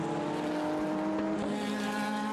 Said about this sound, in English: There's the safety car coming out.